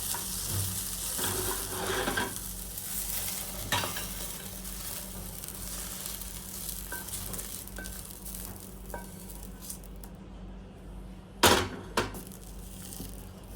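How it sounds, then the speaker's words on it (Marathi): Okra (bhindi) sizzles steadily as it is stirred in a pan, with occasional light clinks and scrapes of the spoon and a louder clatter of utensil on metal near the end. "तर ही भेंडी व्यवस्थितपणे भाजून झालेली आहे"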